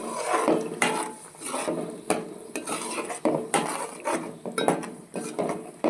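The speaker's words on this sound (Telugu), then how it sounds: "ఉల్లిపాయలు, పచ్చిమిర్చి, టమాటా పేస్ట్ ఇప్పుడు ఒకసారి కలుపుకుందామండి" Spoon scraping and clattering in a pan as onion, green chili and tomato paste are stirred in plenty of hot oil for a fish curry, with irregular metallic knocks over a soft sizzle, close and steady.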